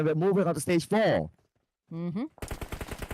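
Gunfire from the battle royale game PUBG Mobile during an esports qualifier match, a burst of rapid shots near the end following a commentator's talk.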